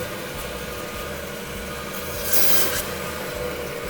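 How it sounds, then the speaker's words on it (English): Butcher's saw cutting through a beef hind shank, a continuous grinding, rasping hum with a steady motor drone and a brief louder bite midway, close and without talk. "cut that beef shank off, and then we head to the saw"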